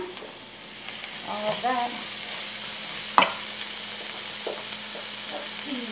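A cup of chopped ham goes into a frying pan for a frittata, giving a steady low sizzle with scraping stir strokes and one sharp clink of a utensil. A brief spoken phrase sits over the cooking.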